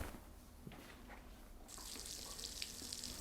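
A bath tap starts running partway through, shifting from a quiet room to a steady bright hiss and splash of water pouring into the tub, faint and continuous.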